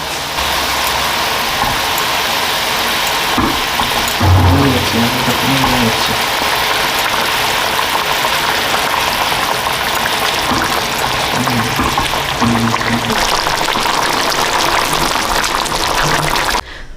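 A simmering prawn malai curry bubbles and hisses loudly and steadily, with a few low voiced murmurs under the sound of the pot.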